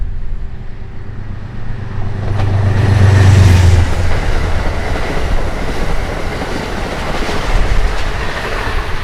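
The Hickory Creek passenger train rolls southbound along the Hudson River through Cold Spring, New York, a loud, close rumble of wheels on rails that swells as the cars pass and then settles into a steady, rushing roar, with no voices.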